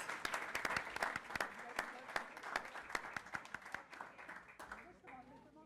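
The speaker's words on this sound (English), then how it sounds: "So I would like to invite us all to applaud these great people for the work they did for all of us." Applause from the audience at a school district board meeting: a moderate crowd claps with sharp, distinct individual claps, strongest at first and then gradually tapering off over several seconds.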